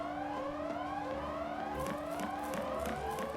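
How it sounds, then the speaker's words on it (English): An alarm siren in the video game Final Fantasy XIII, a rising and repeating wail cycling steadily over a low tone, fairly faint and continuous with no talk. "Or how long we're going to listen to that alarm."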